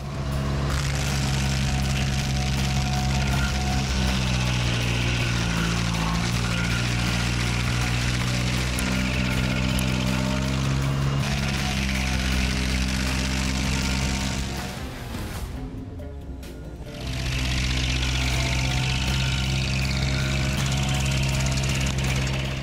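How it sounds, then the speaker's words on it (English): A 2800 SP tree stump grinder grinding out tree roots holds a loud, steady engine drone throughout, easing briefly near the end before returning at full strength. "Thanks to the 2800 SP tree stump grinder, removing tree roots is simpler and more time-saving than ever."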